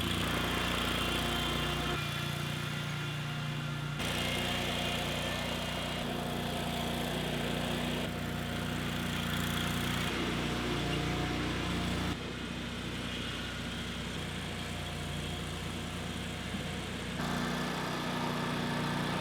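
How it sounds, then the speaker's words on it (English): A Dingo compact utility loader moves dirt around a backyard, its engine running as a steady, continuous mid-pitched drone with a constant rumble throughout, fairly loud and unbroken, with no talk. "I opted to use the Dingo to move the dirt around my yard instead of relying solely on my dumping wagon."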